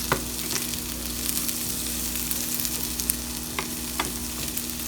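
Potatoes and onions fry in a pan with a steady, close sizzle, while a spatula stirs them, adding occasional scrapes and taps on top of the constant crackle.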